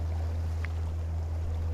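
Quiet electric boat motor on a river, a soft steady low hum running continuously with faint water sounds and a brief light splash, no talking.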